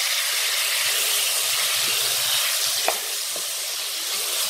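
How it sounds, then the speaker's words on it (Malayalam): Five tomatoes, chopped into square pieces, sizzle and fry in a pan for hotel-style tomato fry, with a steady loud hiss and a faint stir scrape near the end. No one speaks. "ഇനി നമുക്കിതൊന്ന് ഇളക്കി കൊടുക്കാം"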